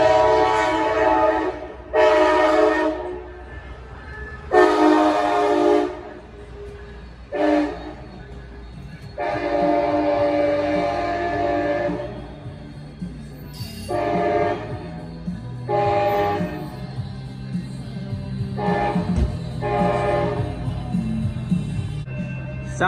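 A Coaster commuter train arrives at Oceanside station, sounding a series of loud horn blasts of varying length over a low rumbling engine and the rattle of railcars.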